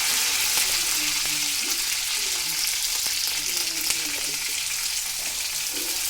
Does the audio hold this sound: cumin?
yes